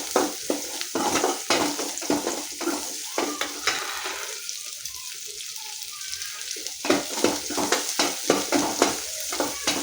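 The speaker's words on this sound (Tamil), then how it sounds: "சின்ன வெங்காயம் போட்டு நல்லா சூப்பராக வதக்கிக்கலாங்க" Small onions are sautéed in a pan with mustard seeds, fenugreek and curry leaves. A loud sizzle runs under repeated scraping stirs of a utensil against the pan, which pause briefly midway before picking up again. No one speaks.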